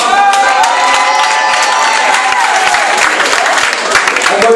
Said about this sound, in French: Alors, c'est les applaudissements.